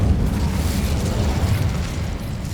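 Fiery spell blast from Incendio in Hogwarts Legacy, a sustained loud roaring whoosh with heavy low rumble that holds steady throughout without pause.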